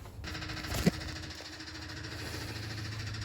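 A Nissan Micra stock car engine cranks with a brief burst and thump, then settles into a steady low idle rumble and hum, close and moderately quiet.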